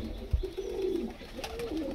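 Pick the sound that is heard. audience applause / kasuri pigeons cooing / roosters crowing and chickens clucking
kasuri pigeons cooing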